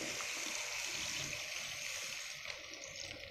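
Water poured into a pot of pork adobo with mushrooms makes a steady, continuous gushing rush for a few seconds at moderate volume.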